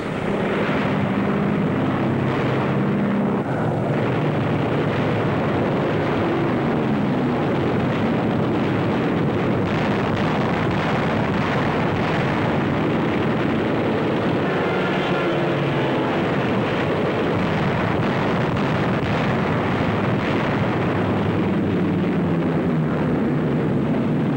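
Explosions from a WWII naval bombardment in the Marshall Islands, archival wartime footage: a dense, continuous roar of blasts and rumbling, with aircraft-like engine drone, loud and sustained throughout without speech.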